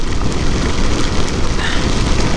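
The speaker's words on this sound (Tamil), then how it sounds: "ரெயின் பெஞ்சிட்ருக்கு இந்த பக்கம் ஃபுல்லாக பாருங்களேன்." Heavy rain pours steadily, a dense, loud hiss of drops hitting surfaces with no breaks, close and enveloping.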